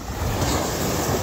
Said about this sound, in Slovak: veľké vlny.